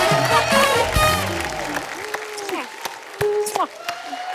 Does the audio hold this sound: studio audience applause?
yes